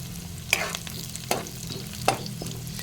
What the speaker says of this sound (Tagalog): Kailangan natin igisa ang ating kaunting sahog.